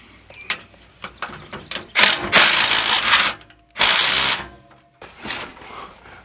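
A jack worked under an RV slide room gear pack gives several separate bursts of ratcheting mechanical clicks, each lasting about a second or two and separated by short pauses, close and fairly loud.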